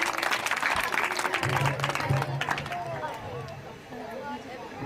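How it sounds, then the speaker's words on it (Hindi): At a cultural event, an audience gives a singer a welcoming round of applause, fairly faint and thinning out after a few seconds, mixed with crowd murmur and background speech. "जोरदार तालियों से स्वागत करेंगे।"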